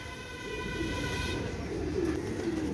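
A Pakistani royal teddy pigeon coos, a few soft, low coos over a steady background hum.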